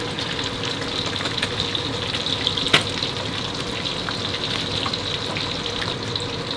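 Fresh mackerel frying in hot oil in a pan, a steady close sizzle that runs throughout, with one sharp clatter partway through as the fish is turned over.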